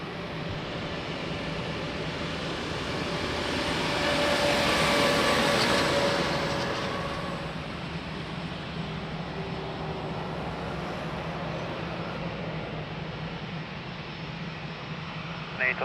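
An airliner landing at Lisbon Airport gives a broad rumbling roar that swells to a peak midway and then eases into a steady, sustained wash of engine noise.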